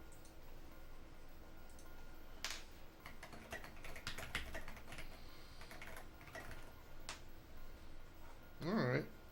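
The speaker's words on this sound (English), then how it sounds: "God, I love my new keyboard." Clacky bursts of typing on a new computer keyboard, irregular clusters of quick key clicks at close range, with someone speaking briefly near the end.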